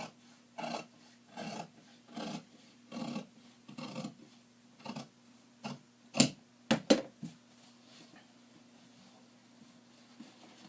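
Fabric scallop for a valance being cut out with scissors: about a dozen short rasping snips in a steady rhythm, a few sharper closer cuts near the end, then quiet.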